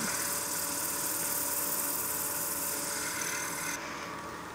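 Sandpaper rubs against a spinning wooden birdhouse ornament on a lathe, a continuous close hiss with the lathe humming underneath, easing slightly at the end as the finer grit pulls away.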